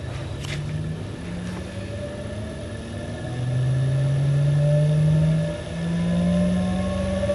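An electric motor restarting on a variable frequency drive with shaft grounding fitted, giving a steady low hum whose tones glide upward as it comes up to speed and swells louder partway through, alone without talk.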